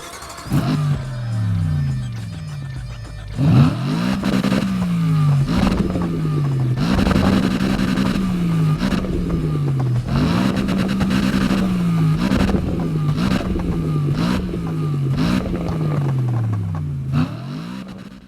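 A BMW M3 GTR race car engine from the Need for Speed video game revs loudly and repeatedly, climbing through rising pitch sweeps and dropping back with each gear change, close up and steady throughout with no talk.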